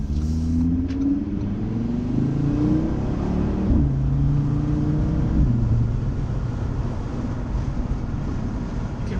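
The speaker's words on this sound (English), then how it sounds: "You can really hear that turbo spool, and I just love the pops of the exhaust when the transmission shifts." A 2018 Audi RS3 driving on the road, its engine rising in pitch through the gears with a steady rumble, turbo spool and brief exhaust pops at shifts, heard close and without talk.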